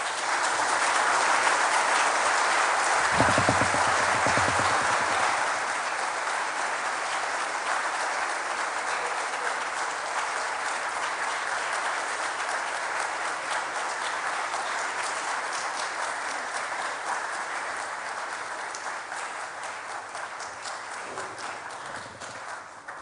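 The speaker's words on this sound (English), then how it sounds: "Another excellent round of applause for our speaker." Audience at an inaugural university lecture applauding in a steady, dense, sustained round of clapping that carries on for over twenty seconds.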